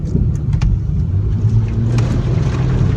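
An off-road vehicle's engine rumbles loud and close as it reverses through mud in a state forest, a steady low drone with slight revving and no talk.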